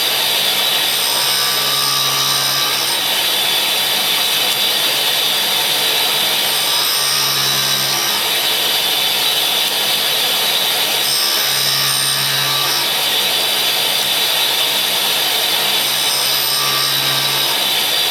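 A metal shaper takes a cutting pass across a badly damaged hard cutter, giving a steady, loud machine grind with a faint rhythmic stroke repeating about every five seconds and no voices.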